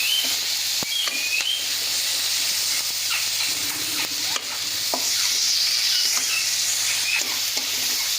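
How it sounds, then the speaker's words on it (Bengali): Whole mustard seeds, coriander and dried chillies fry lightly in oil in a pan, giving a steady close sizzle with occasional stirring scrapes and small pops, no talking. "গোটা সর্ষে আর ধনে আর শুকনো লঙ্কাটাকে দিয়েছি, দিয়ে এটাকেও একটু ভাজা করে নেবো হালকা করে"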